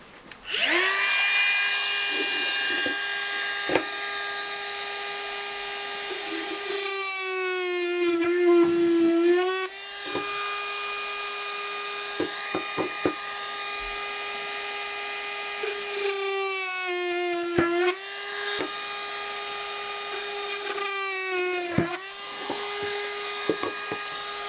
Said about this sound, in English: drill a small pilot hole from that side and then drill through that way